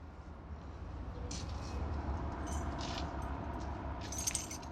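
Keys jangle in a few brief metallic bursts, faint against a low steady background hum.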